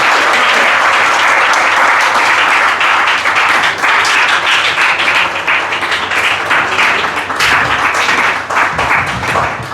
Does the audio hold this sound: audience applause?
yes